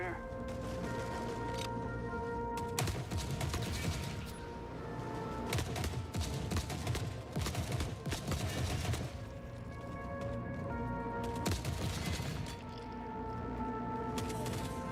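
Video game Forever Winter gunfire, rapid shots rattling in dense bursts beneath a loud, steady musical soundtrack that continues throughout.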